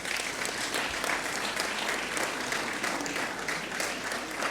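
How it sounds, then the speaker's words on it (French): Audience applause at a formal ceremony honoring the Portuguese president, a sustained dense wash of clapping from a large crowd, steady and even throughout, heard at a moderate distance. "Vos applaudissements."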